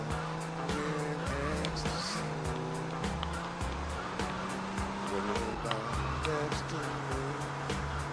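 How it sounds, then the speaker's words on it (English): A sports car engine in Grand Theft Auto: Vice City Stories hums steadily with rising and falling revs, accompanied by rhythmic clicking and a brief tire squeal, all at moderate, fairly faint volume. "You're hearing the sports car engine sound on this"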